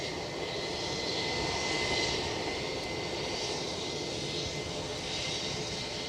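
ATR turboprop at Edinburgh Airport, a steady droning engine roar with a faint high tone running through it, constant and moderately loud with no talking.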